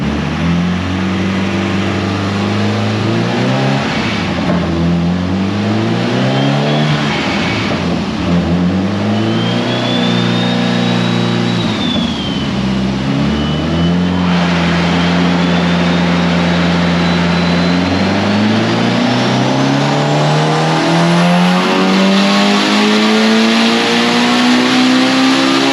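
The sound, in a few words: built Mitsubishi Evo 8 engine revving during dyno pull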